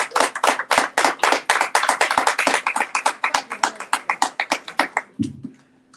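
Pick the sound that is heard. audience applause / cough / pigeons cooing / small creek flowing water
audience applause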